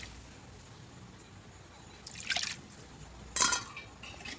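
Water splashes into a pan of fish curry cooking in oil, two short bursts of pouring and sizzling over a quiet background hiss.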